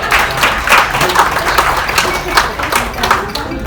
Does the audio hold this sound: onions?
no